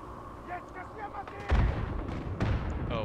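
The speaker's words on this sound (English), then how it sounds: "Oh, we're getting mortared." Mortar shells land in the video game Isonzo, two heavy explosions about a second apart over a backdrop of battlefield noise, with faint chirps and distant activity between the impacts.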